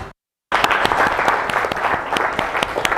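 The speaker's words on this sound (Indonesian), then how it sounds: "Aplaus terakhir buat keberhasilan pembelajaran siang hari ini." A classroom of students claps together at the close of a lesson, with loud, sustained applause starting suddenly after a brief silence and continuing steadily.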